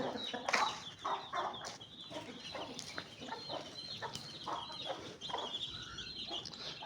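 A hen sand-bathing in loose soil clucks softly, with other chickens clucking and chirping nearby in short, scattered bursts.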